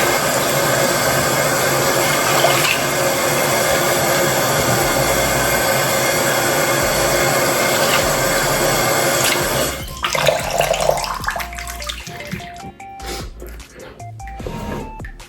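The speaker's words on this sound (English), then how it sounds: "I'm gonna rinse my face real quick. So, it's about to be loud." Water running from a bathroom tap while a face is rinsed: a loud, steady gushing stream for about ten seconds, then splashing and irregular dribbling as the flow is interrupted.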